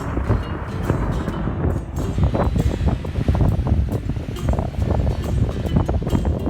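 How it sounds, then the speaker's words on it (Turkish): Strong, steady wind on the Black Sea coast roars across the microphone in a continuous broadband rush, with gusty swells and no voices. "bu vakitlerde Karadeniz çok fazla rüzgar alıyor ve etkili bir rüzgar çıkmıştı"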